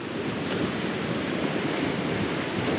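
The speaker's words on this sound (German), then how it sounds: "Ganz schön windig geworden." Strong wind buffets the microphone in a constant loud rush, with a surf-like roar underneath and no voices.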